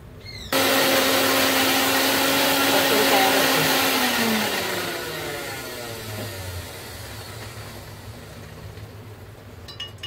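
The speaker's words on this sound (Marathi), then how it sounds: "आता मी हे वाटण वाटून घेते" A mixer grinder loudly whirs as it grinds a Malvani spice paste (vatan), running at a steady high pitch for about four seconds before its motor note sinks and slows while it continues grinding.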